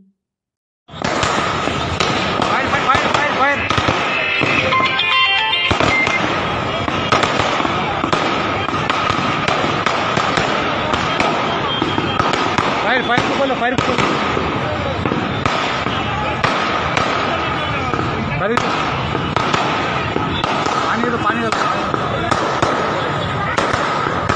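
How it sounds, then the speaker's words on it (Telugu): Firecrackers set off by party workers at Telangana Bhavan in Hyderabad burst in a dense, continuous barrage of loud cracks and bangs for over twenty seconds, with voices mixed in. "వకుంట్ల కవితను పార్టీ నుంచి సస్పెండ్ చేయడంతో బీఆర్ఎస్ కార్యకర్తలు తెలంగాణ భవన్ టపాసులు పేల్చడంతో తెలంగాణ భవన్ కు నిప్పంటుకుంది."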